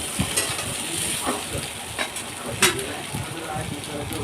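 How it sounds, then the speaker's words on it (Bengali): Papaya, potato and raw banana frying in a wok with chilli tempering, a steady broadband sizzle with occasional stirring clatters and spatters, close and fairly loud throughout. "এখানে লঙ্কা ফোড়ন দিয়ে কড়ার মধ্যে পেঁপে, আলু, কাঁচা কলা"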